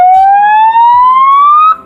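A Propalm police escort siren horn wails loud and close in one steady rising electronic tone, lasting nearly two seconds before cutting off abruptly.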